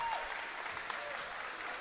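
Steady applause from a full crowd at an under-20 men's basketball semi-final at the Mardyke, Portlaoise Panthers against Dublin Lions, a dense even clatter of clapping throughout with faint voices underneath.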